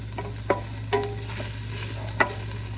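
Onions sizzle in a pan over medium-low heat while being stirred, a soft steady fry with three distinct utensil knocks or scrapes against the pan, no voices.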